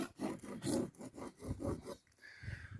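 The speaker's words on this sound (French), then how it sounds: "Ça, ce petit grattoir, il va vraiment bien." A small hand scraper rasps in repeated short strokes across a surface during a camper van renovation, with the rhythmic scratching heard close and fairly quiet.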